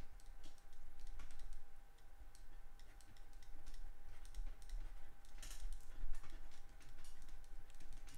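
Computer keys are tapped in a quiet run of light, irregular clicks, faint over a steady electrical hum, with no voices.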